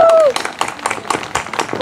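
Spectators at a show-jumping competition applauding the winning rider, scattered clapping from a small crowd outdoors, following a brief voice at the start.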